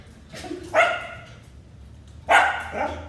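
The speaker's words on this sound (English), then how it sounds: "Happy dog." A small toy-breed dog barks twice at close range, two sharp yips about a second and a half apart over a quiet indoor background.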